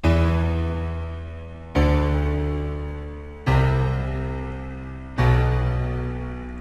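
A piano bass riff from the Nexus plugin in FL Studio, written for a techno beat, plays four descending notes, each struck firmly and left to ring and fade, evenly spaced and alone.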